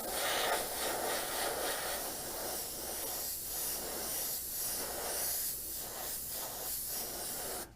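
An airbrush sprays light coats of paint onto a model Antonov An-225 Mriya aircraft, giving a steady, close airy hiss that runs unbroken throughout.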